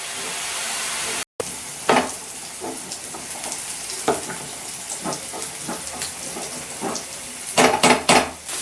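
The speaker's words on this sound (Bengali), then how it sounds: "এদিকে মশলাটা হালকাভাবে কষিয়ে নিচ্ছি" Spices being lightly sautéed in a pan for meat khichuri give soft, intermittent frying and stirring noises, with a few louder scraping bursts near the end and no talk.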